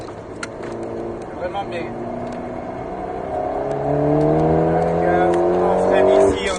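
An Alpine A110S accelerating on the Alès race circuit, its engine heard from inside the car rising in pitch through the gears with a climbing whine, while people talk over it.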